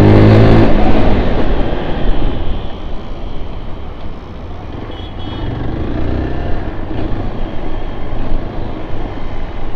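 A 2022 Zontes GK350 motorcycle pulls away hard, its engine roaring loudly at first, then settling into a steady, sustained drone as it speeds along. No voices.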